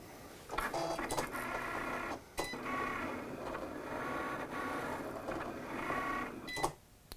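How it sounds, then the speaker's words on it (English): A Cricut cutting machine cuts a circle in cardstock, a quiet mechanical whir with motor buzz and carriage movement, broken by brief pauses and clicks as the head changes direction. "So we're going to tell it to cut that circle."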